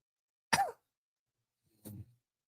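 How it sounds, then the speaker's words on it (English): Two separate coughs from a person who is feeling unwell, one sharp and close at first, then a second, softer and lower cough about a second later, with silence between them. "you can hear the coughing"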